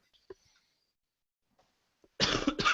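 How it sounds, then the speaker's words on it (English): A single short cough in a quiet room during a casual chat about model hot rod pictures, brief and fairly faint, followed by near silence and then loud voices talking. "Somebody else coughed"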